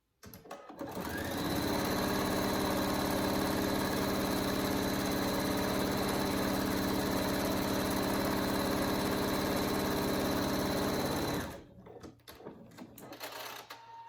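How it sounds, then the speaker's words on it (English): A sewing machine runs steadily for about ten seconds, stitching along the edges of a koala mitten's seams with the presser foot as a guide, a continuous close whirring hum that starts and stops abruptly. "you're going to sew along the edges, starting at the top, going around, and ending at the opposite side"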